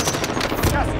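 Rapid automatic gunfire in Call of Duty cracks out as a dense, loud burst of shots over about a second, with no speech.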